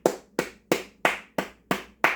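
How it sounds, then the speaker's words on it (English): Seven single hand claps from one person, close and crisp, evenly spaced in a steady beat-like rhythm with silence between. "I'm going to clap for you right now."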